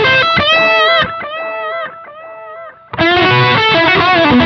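A Fender Mirror Image Delay on its second variation, fed by a Pugilist Distortion, carries loud overdriven guitar chords and lines, with echoes trailing into a quieter passage before a hard restrike, alone with no talk.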